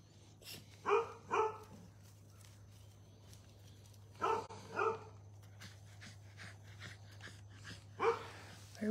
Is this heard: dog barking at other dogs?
yes